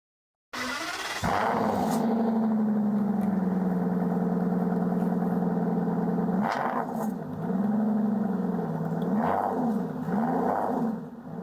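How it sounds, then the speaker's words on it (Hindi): Car engine sound effect: a roaring start-up followed by a steady mid-pitched idle, then several rising and falling revs near the end, loud and close with no talking. "नहीं तो इधर मैं एक गाड़ी की साउंड ऐड कर देता हूँ।"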